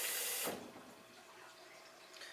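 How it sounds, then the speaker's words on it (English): A cold tap runs into a drinking glass with a brief louder splash at the start, then settles into a quieter steady trickle and rinse, close up and faint, with no talking. "I'll give my glass a cold water rinse as per usual"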